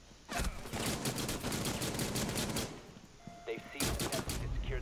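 Rapid bursts of gunfire from a team deathmatch in Rainbow Six Siege on the Hereford Base map, loud dense volleys filling most of the clip, a short lull with a tonal beep, then another burst of shots.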